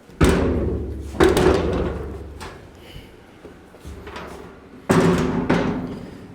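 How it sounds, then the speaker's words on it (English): Doors are fitted onto a ToughBuilt 48 by 78 inch garage cabinet, with loud close thumps and knocks, several sharp impacts separated by quieter handling and rattling. "Alright, now let's put doors on."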